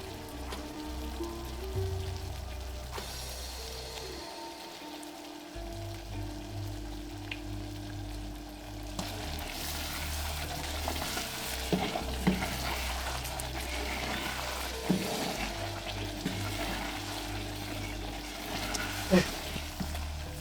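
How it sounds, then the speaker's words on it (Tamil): Sesame oil tempering for Iyengar puliyodharai gives a soft sizzle and spatter with occasional stirring clinks, fairly faint, over faint background music. "இப்ப இதுல நம்ம இன்னும் கொஞ்சம் எண்ணெய் விடணும்,"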